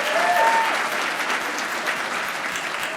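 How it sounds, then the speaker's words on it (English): Dinner guests applauding at a court historical society banquet, a loud, even roar of many hands clapping that holds steady throughout, with a brief whistle-like tone early on. "A round of applause."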